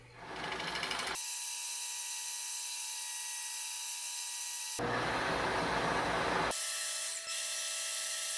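A power drill's motor whines steadily, with two loud grinding stretches of a 2-inch bit cutting into oak between quieter spinning.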